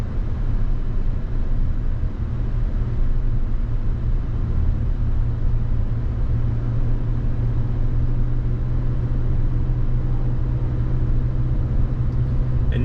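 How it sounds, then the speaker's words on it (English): A Mazda CX-90 plug-in hybrid with its four-cylinder engine drives along, giving a steady low drone and rumble that holds at an even level throughout, heard from inside the cabin. "And you can hear a different sound, of course, with this 4-cylinder than you can the inline 6."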